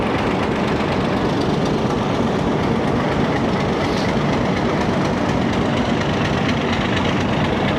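The 228DN shuttle train departs Kot Addu Junction, heard as a loud, steady rumble of rolling wagons with a faint clickety-clack of wheels over rail joints, close by and unbroken.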